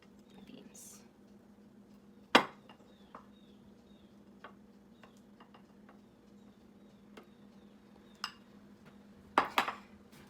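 Rice and beans for Pabellón Criollo being plated onto a dish, sparse soft scrapes and a few sharp utensil clinks against the plate, quiet and close in a still room.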